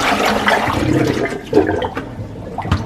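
Water runs and splashes as washed callaloo is drained, a steady close pouring rush with a brief louder surge midway, no talking.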